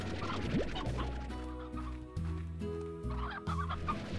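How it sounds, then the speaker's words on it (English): Chickens cluck in Slime Rancher, several short clucks and squawks scattered over a looping musical backing, close and fairly loud. "Chickens!"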